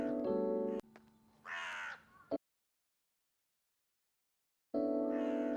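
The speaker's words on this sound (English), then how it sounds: "I can hear the crow." A crow caws loudly in a few harsh calls, breaking off into a stretch of silence before another caw returns.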